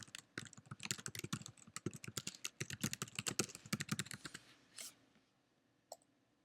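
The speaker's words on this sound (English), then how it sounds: "and just type in your information." Fingers typing on a computer keyboard while entering information during software setup, a quick uneven patter of close, crisp key clicks that thins out toward the end, leaving a few isolated taps.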